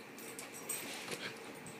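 A dog whimpering and sniffing softly, faint and close, in short uneven bursts with no talk.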